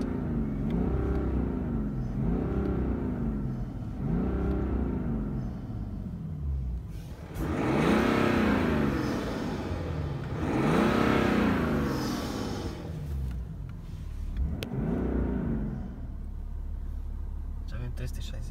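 BMW car engine running just after start, a low rumbling idle with repeated swells as it is revved, heard close, with people talking over it.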